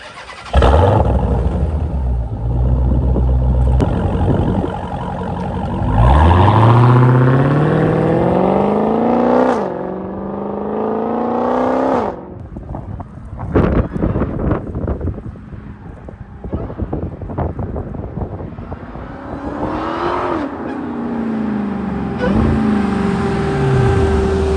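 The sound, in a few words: stock Hellcat Redeye engine idling after warm-up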